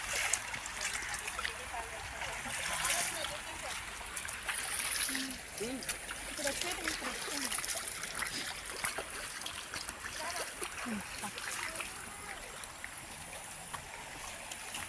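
Water bubbles up from the middle of a spring-fed pond at Buggapuram near Kotpalli, giving a steady, soft watery hiss and trickle heard throughout beneath people talking.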